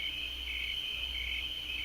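Crickets chirp in a continuous, steady high-pitched trill in a countryside evening setting, even and fairly faint with no other sounds.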